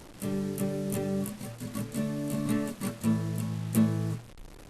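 Electric guitar power chords played one after another, each struck a few times in a steady rhythm before moving to the next, ending with a brief muted stop.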